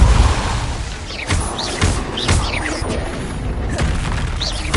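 Depulso force-spell impacts in Hogwarts Legacy land as a series of heavy booming thuds with crashing debris, spaced irregularly over continuous loud combat ambience, with shimmering magical whooshes between hits.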